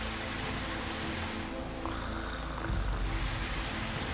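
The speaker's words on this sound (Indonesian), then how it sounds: "Tidurnya aja udah ngorok kok." An old man snores in his sleep, slow rasping breaths rising and falling close by with no talk over them, in an animated fairy-tale cartoon.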